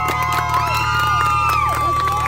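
Crowd cheering at an outdoor scene by a reservoir, excited shouts and whoops from several voices rising over each other, close and lively, with little clear clapping.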